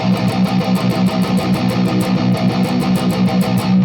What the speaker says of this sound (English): So if I hold the pick sort of parallel to the string, it would sound like this.